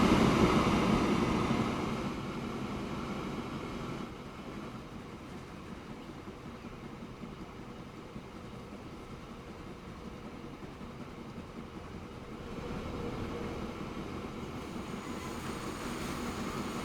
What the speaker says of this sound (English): Train's going as fast as it can go.